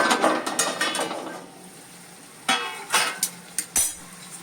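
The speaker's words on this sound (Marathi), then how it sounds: "आता आपण झाकण उघडून बघूया आपली मेथीची पालेभाजी शिजली आहे का." A metal lid is lifted off a pot of cooking fenugreek leaves, giving a few quick clinks and scrapes of metal on metal, first clustered, then after a pause several sharper knocks close by, with no talking.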